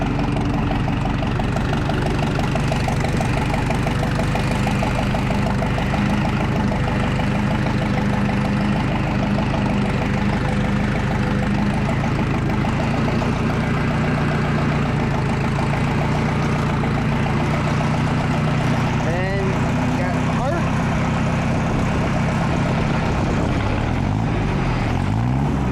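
A tractor engine runs steadily at a constant low drone, loud and close, with no voices over it.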